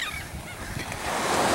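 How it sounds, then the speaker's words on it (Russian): Honking, squawking gulls call near the water on a foggy morning, set against a steady wash of waves and wind that grows louder toward the end, with no talking. "Тут наглые чайки везде бегают."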